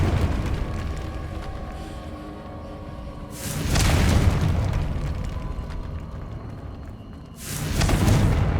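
Two loud booming blasts from the Confringo spell in Hogwarts Legacy, each one a sudden heavy burst that fades out slowly, about four seconds apart, over a low ambient rumble.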